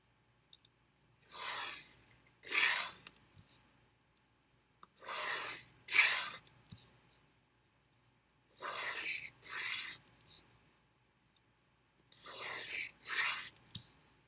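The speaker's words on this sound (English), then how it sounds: "you're going to draw your lines again" Pencil drawing grid lines on paper, four pairs of short, soft, scratchy strokes separated by quiet gaps, close and faint.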